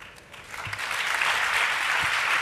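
Audience applause at an education event on digital-age schooling, swelling from a faint start into broad, sustained clapping that stays loud to the end.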